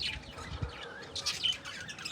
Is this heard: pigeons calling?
yes